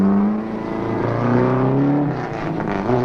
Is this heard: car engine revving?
yes